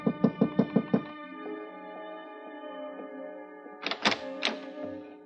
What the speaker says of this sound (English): then I knocked on her door.